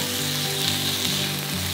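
Squid stir-frying quickly with sauce in a hot pan gives a loud, dense, continuous sizzle right up close, with no talking over it.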